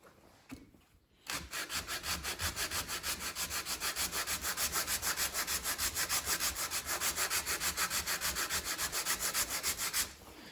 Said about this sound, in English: I'm just going to use 80 grit on a block and sand this out